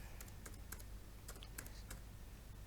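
Computer keyboard typing while entering details on a new-student registration form for MTsN 3 Langkat: irregular, crisp keystroke clicks in quick clusters, soft and close over a low background hum.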